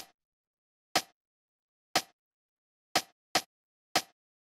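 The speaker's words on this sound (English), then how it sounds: "Next sound we have here is the rim shot, which sounds like this." Rim shot drum sample for melodic house: five short, dry, snappy hits spaced about a second apart, one slightly early, each clean and alone against silence.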